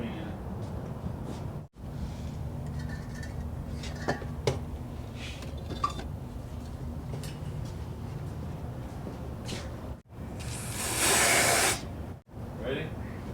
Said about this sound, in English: Spray a little brake clean in.